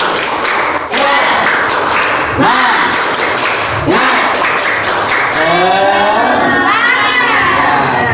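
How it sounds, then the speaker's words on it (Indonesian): Schoolchildren in a classroom perform a rhythmic spirit clap, bursts of clapping and thumps in a group beat mixed with shouted chanting voices, loud and close. "sekarang anak-anak tepuk semangat"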